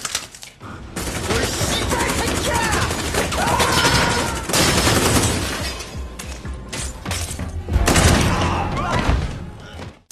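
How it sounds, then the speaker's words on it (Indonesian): Heavy gunfire fills a film shootout scene inside a building, with continuous loud bursts, crashes and impacts running almost the whole time, a voice briefly heard under the din. "Sayangnya, atasan Lido terkena tembakan di bagian vital, sehingga dia tidak bisa keluar dari sana."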